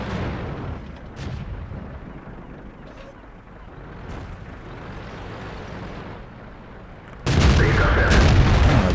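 Heavy tank cannon fire in World of Tanks during a Matilda IV medium tank battle, a couple of distant booms under rumbling engine noise, then a sudden loud, close blast that stays loud to the end.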